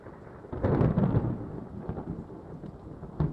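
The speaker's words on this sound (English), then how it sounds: "Why does it sound like it's raining inside the house?" Steady rain in the game The Last Portrait patters throughout, heard inside a mansion, with a low rumble swelling early on, fairly soft and continuous, no voices.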